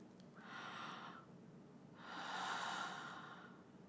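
A deep breath drawn in through an open mouth during a singing exercise, two airy inhalations, a short one and then a longer, fuller one, close and alone.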